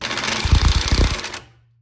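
A power tool whirs and rattles loudly for about a second and a half, then cuts off abruptly into silence.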